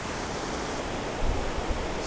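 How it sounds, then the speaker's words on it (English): A large waterfall splitting into two streams and rejoining in a huge cascade gives a dense, steady roar of rushing water with a slight low rumble swelling toward the end. "the main waterfall, then it divides into two. Then again it reunites on this huge cascade."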